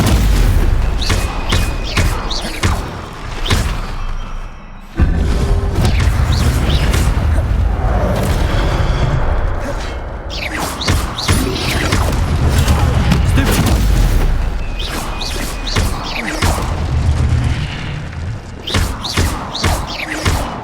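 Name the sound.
spell combat blasts, Hogwarts Legacy video game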